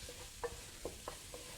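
Onion cooks in oil in a pot as it is stirred, giving a faint steady sizzle with four soft, evenly spaced scraping taps from the stirring.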